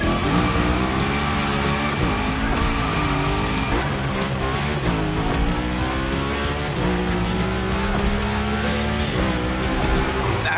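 Cars drift and slide through a gymkhana course in The Crew Motorfest, with continuous loud engine roar and tire squeal sweeping up and down across the whole stretch.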